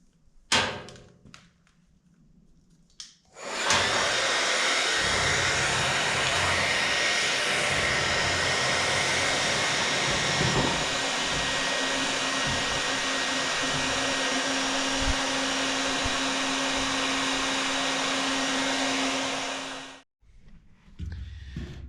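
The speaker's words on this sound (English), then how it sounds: "I'll use the old trusty hair dryer" A hair dryer blows steadily for about sixteen seconds to dry out a car's gas tank, a loud continuous broadband whoosh with a faint hum, switched on after a short quiet stretch and cut off near the end.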